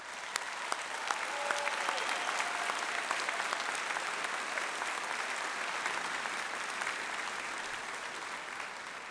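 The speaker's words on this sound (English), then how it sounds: "Please join me in giving them a thank you round of applause" Graduation audience applauding staff members at a 2015 high school commencement, a steady, sustained wash of clapping from a large crowd that holds even throughout, with a few sharper individual claps standing out.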